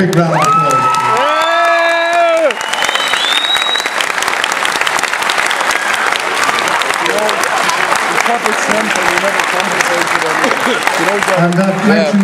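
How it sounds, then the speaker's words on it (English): Boxing show crowd applauding and cheering two young boxers in the ring, loud sustained clapping with whoops and shouts, opening under an announcer's amplified voice. "Let's give them both a big round of applause."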